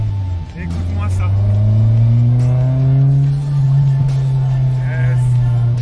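A Honda S2000 convertible with the top down revs its engine up through its exhaust, a loud droning tone climbing steadily in pitch and then holding, heard close from inside the car.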